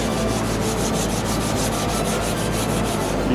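Rhythmic rubbing strokes of wet sanding on the body panel of a worn S13 during a repaint, repeating quickly and evenly close up, with no voices.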